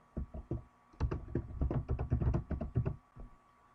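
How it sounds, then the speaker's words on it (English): Someone types on a computer keyboard while entering data into an Excel spreadsheet, a close series of irregular clacking keystrokes in bursts, with a short pause before a rapid run. "with the help of keyboard, we can enter the data in a cell"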